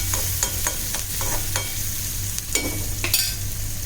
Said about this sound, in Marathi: 5-6 पाकळ्या लसूण उभा चिरून घेतलाय. छान परतून घेऊया